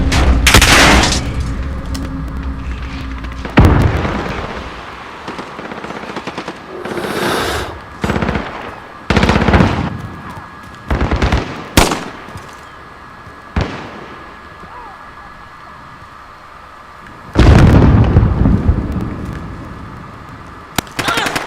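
Gunfire in the shooter game Modern Warfare: loud bursts of automatic fire and single shots come in clusters with pauses between them, and a voice is heard between the volleys.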